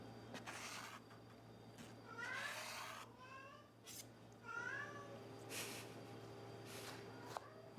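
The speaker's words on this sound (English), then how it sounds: "He just loves meowing." A cat lets out several soft, drawn-out meows at a quiet, close distance, spaced a second or two apart over a low steady hum.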